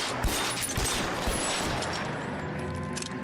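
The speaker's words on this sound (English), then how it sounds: "I'm going to shoot out their tires so they can't follow us" Gunshots fired at car tires during a chase in the LA Noire video game, a loud flurry of shots over rumbling engine noise, thinning out toward the end.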